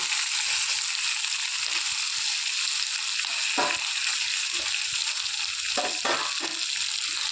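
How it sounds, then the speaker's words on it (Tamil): Sliced onions and curry leaves frying in a pan for a broad-bean stir-fry, giving a loud, constant hiss with a few scraping stirs near the end, heard alone without speech. "இதுக்கிடையில் நம்ம வெங்காயம் கருகாப்பில் தலை இதையும் ஆட் பண்ணி விட்டுருவோம்"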